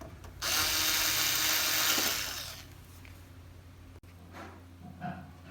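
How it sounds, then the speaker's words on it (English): A power screwdriver drives screws into the bezel of a Samsung 32-inch LED TV, its loud, even whirr running for about two seconds before tapering off, followed by faint handling clicks. "Install all the screws."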